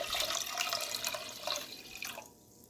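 Milk poured from a container into a regular cooking pot, a faint, continuous splashing pour that slows and thins out toward the end.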